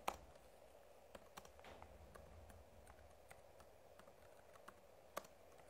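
Typing on a computer keyboard while a client's name is entered into a mail form, faint scattered key clicks in an uneven rhythm against quiet room hum, with a couple of slightly sharper taps.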